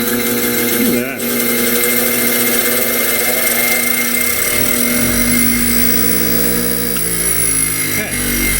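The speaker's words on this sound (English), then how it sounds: "Okay, bench grinder works." A Harbor Freight bench grinder in a garage runs with a loud, steady motor whine and drone throughout, its pitch shifting as it spins up and settles, with a voice talking faintly underneath.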